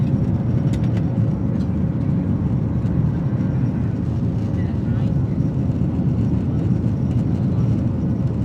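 Steady loud cabin rumble of a Lion Air Boeing 737-900 climbing out on takeoff, constant low engine roar heard from inside the economy cabin with no break.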